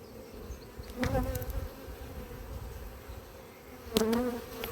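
Honeybees buzz around an opened hive during a spring Varroa treatment visit, a steady close drone with a couple of louder passes as single bees fly near, and no talking.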